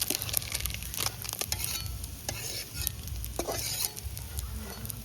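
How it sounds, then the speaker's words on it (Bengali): Freshwater mixed fish frying crisp in hot oil, a dense close sizzle with crackling spatter and bursts of stirring or turning against the pan, continuous and fairly loud with no voices. "বাকি মাছগুলো লাল লাল করে ভাজা হয়ে গেছে একদম কড়া করে ভেজে নেওয়া হয়েছে"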